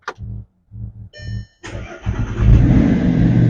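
An Audi R8 coupe's 4.2-litre V8 cranks and fires after a few short starter bursts, then settles into a loud, rumbling idle close by; no one talks over it.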